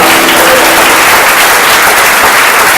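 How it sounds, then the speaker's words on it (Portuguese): A church congregation applauds the Lord at the pastor's invitation, a dense, loud burst of clapping filling the whole short span without pause. "Você pode aplaudir o Senhor?"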